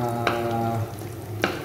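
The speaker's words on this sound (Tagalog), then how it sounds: "igisa na lang natin dito ang bawang natin" Garlic sautéing in reused cooking oil, a steady close sizzle with a couple of sharp stirring scrapes, no voices.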